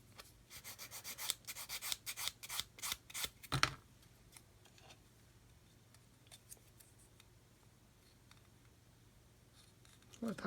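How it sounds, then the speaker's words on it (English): Coarse sander rubbing down a piece of plastic card, a quick run of close, scratchy strokes at the start, then only faint room noise with a last scrape at the end. "so I'm just going to sand a bit more off of there"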